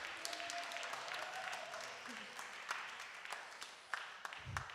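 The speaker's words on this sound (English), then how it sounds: "please could we give them a big round of applause as well." A crowd applauding steadily, dense clapping from many hands at moderate distance, fairly even throughout with a few sharper claps standing out.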